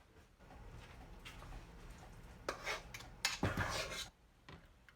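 A metal ice cream scoop portions pink velvet cake batter into mini loaf pans in a quiet kitchen, with a few sharp clinks and soft scrapes of metal against the pans, some clustered together, over a faint background.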